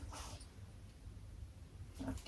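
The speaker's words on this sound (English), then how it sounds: "Oh, sorry, Mabel, just tripped over the dog." A pet dog named Mabel, just tripped over indoors, gives short, faint whimpers at the start and end of a quiet moment, close by with low room hum underneath.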